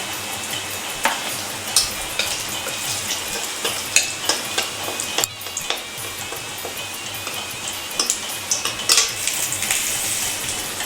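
Chilies and garlic frying in oil on a stove, a constant loud sizzle broken by stirring scrapes and clinks of a utensil against the pan, close up, with no talking.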